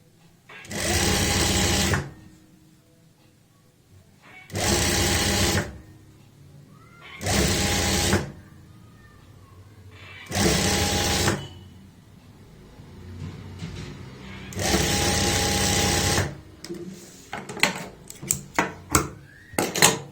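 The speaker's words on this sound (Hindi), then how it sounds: "इस तरीके से रखते हुए एक पैर का मार्जिन रखेंगे और सिलाई लगाएंगे" Sewing machine stitching a doubled strip onto an angrakha kurti, in five loud close bursts of fast whirring separated by quiet pauses, followed by scattered clicks and handling noises.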